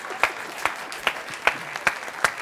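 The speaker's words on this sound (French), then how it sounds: "Je vous demande d'applaudir, ne perdez pas la cadence." Rhythmic clapping from a TV studio audience on a French variety show, sharp claps landing in a steady beat about every half second, moderately distant and alone without talk.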